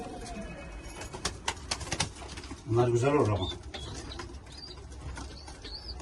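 Pigeons coo in a coop, a short burst of low, throaty cooing rising in the middle alongside a few sharp taps and chirps, while someone speaks nearby.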